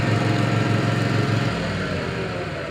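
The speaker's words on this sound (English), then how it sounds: "the mower dies right away for safety" Engine of a CE52T remote control lawn mower running loud and close with a rough rapid pulse, then winding down and fading as it shuts off.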